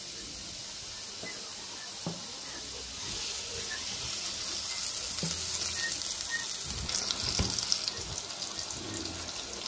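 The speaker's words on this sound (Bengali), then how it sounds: "তো পেঁয়াজটা ভাজা হয়ে গেছে" Onions fry in oil with tengra fish, giving a steady hissing sizzle that grows louder midway, with faint clinks and low speech in the background.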